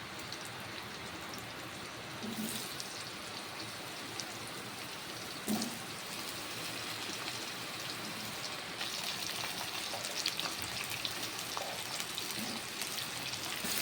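Chopped potatoes fry with a fish head and green chillies in a pan, giving a steady, soft, rain-like sizzle with a few light clatters, no talk.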